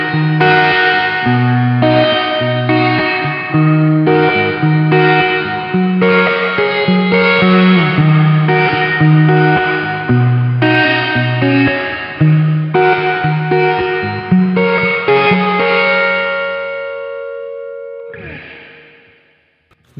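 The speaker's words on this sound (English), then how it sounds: "plate's gonna be a really bright sounding, kind of a more harsh reverb" Guitar through a Sonicake plate reverb pedal, bright and harsh, rings through a sequence of notes, then a long shimmering tail fades to near silence at the end.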